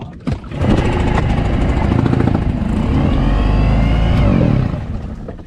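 A two-stroke outboard motor on a skipjack sailboat coughs into life and settles into a loud, steady, buzzing run close by, holding constant for several seconds before easing slightly at the end.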